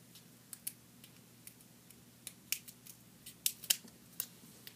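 Scissors snipping material for a DIY model horse barn scene, a series of small crisp cuts in uneven clusters, close and quiet against a low hum.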